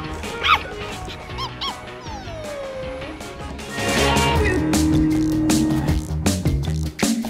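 A Pepper humanoid robot plays recorded dog sounds, a mix of barks, yips and whimpers in quick succession, fairly close and loud against a busy background.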